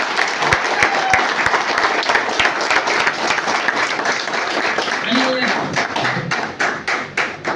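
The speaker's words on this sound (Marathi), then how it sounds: "त्यांच्यासाठी जोरदार टाळ्या" Indoor company award ceremony with a crowd clapping for an award recipient: dense, steady applause with sharp individual claps throughout. Amplified voices and background chatter sound under the clapping.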